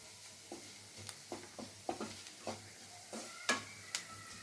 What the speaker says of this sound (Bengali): এই ময়দাটা একটু, ময়দার গন্ধটা যাতে চলে যায় সেইভাবে একটু নাড়াচাড়া করে ভালো করে